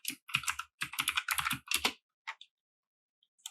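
Computer keyboard typing in Adobe Illustrator, a quick run of close, crisp key clicks in bursts lasting about two seconds, then a few isolated taps after a pause.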